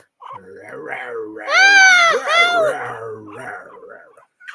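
A dog whimpering and yelping up close in a home, with high whiny cries rising and falling in a few drawn-out bursts and brief gaps between them.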